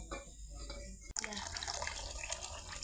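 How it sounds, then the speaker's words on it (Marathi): Water is poured out at a farm, probably while mixing a feed or drink for cattle. A brief thud gives way to a steady splashing, trickling flow, and a voice talks faintly over the start. "आता थोडस पाणी टाकून घेऊया आपण."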